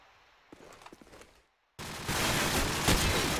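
Rapid bursts of gunfire ring out in a Call of Duty 4 promod match on the Backlot map, first a few scattered shots, a brief silence, then a sustained loud volley of automatic fire.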